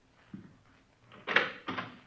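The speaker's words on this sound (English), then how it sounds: "Go ahead. Open the door." A door is opened in an old police radio drama: a soft handle rattle, then two louder scraping, thudding bursts close by, with no talking.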